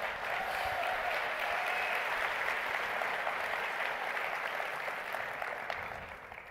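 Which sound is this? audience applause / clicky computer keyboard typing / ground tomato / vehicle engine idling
audience applause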